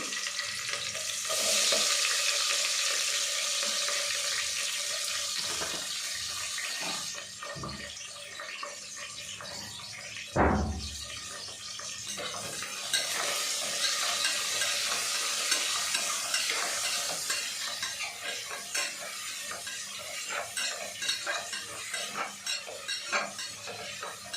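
Sliced onions and curry leaves, with cinnamon and cloves, fry in oil in a pan: a continuous close sizzle with repeated spatula scrapes and one sharp metallic clank against the pan midway, and no voices.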